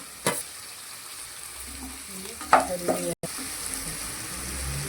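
Tomatoes fry with a steady sizzle in a pan of vegetable upma made with sooji, close and continuous, broken by a couple of scraping stirs and a brief clatter.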